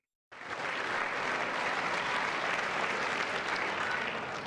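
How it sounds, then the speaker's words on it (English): Sustained, dense applause from a large crowd giving a standing ovation, steady and unbroken throughout, heard from a distance in a big hall. "this is like a 2-minute standing ovation for like nothing"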